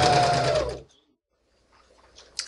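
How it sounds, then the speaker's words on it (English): A sewing machine stitching a scalloped skirt edge runs with a dense, close mechanical whir for under a second, then stops and leaves near silence before faint handling noises. "And do that until your skirt is completely sewn."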